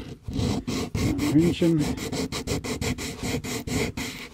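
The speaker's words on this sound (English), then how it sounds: "we can do that with our sanding block just by sanding them basically off until we get this nice and flush" A sanding block is worked over plastic parts of a scale-model Pontiac 389 engine, making close, rhythmic, rasping back-and-forth strokes. A voice speaks briefly over the strokes.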